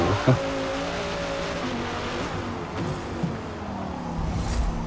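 A powerful Mercury Cougar race car at Hockenheim roars steadily from inside the car, its engine a loud, continuous drone with brief spikes as the throttle shifts.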